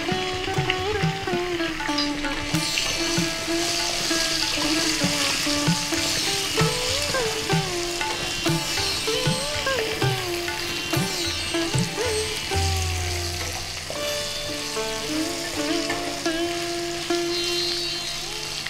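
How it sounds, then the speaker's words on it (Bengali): Potato pieces fry in a pan for a Bengali salmon fish curry, a continuous sizzle under a loud melodic music backing, with no speech. "আলুর টুকরোগুলোকে একটু লাল করে ভেজে নেব"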